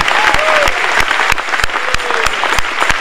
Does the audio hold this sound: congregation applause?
yes